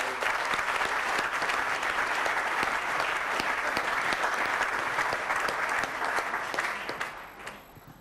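Audience applause at a French association's anniversary evening, a sustained, even clapping from a sizeable crowd that fills the room before fading out in the last second.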